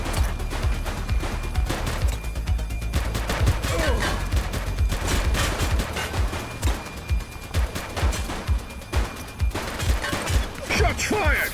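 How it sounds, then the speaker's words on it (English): Gunfire in The Precinct, a police video game: rapid bursts and scattered single shots crackle loudly and almost without pause, with brief voice lines under the shooting. "Shots fired!"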